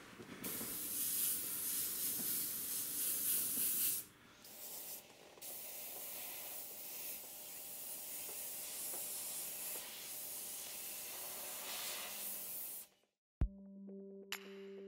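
An airbrush hisses in long, steady bursts of fine spray, close and continuous, darkening the sea color around a mask on a sea turtle painting, pausing briefly before ending with a few clicks.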